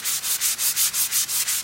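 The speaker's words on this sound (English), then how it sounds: "I'm just gonna take my sanding block" A sanding block rubs back and forth over a painted sign stencil before the stencil is pulled, about nine quick, even scrubbing strokes close to the microphone.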